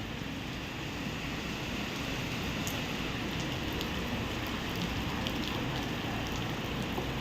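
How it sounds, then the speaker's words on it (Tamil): Heavy rain pours at the Erode bus stand, a dense, even roar of drops hitting surfaces that holds steady and fairly loud throughout, with no voices. "செம்ம மழை பெய்யுதுங்க பிளாட்ஃபார்ம் கூட மாற முடியல செம்ம மழை பெய்யுது"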